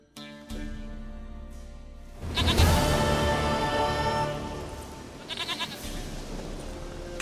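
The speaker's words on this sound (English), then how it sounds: "Goat of mine, dearest, sweetest goat." A goat bleats in The Witcher 3, a few nasal calls over swelling orchestral game music and ambience, with no talk.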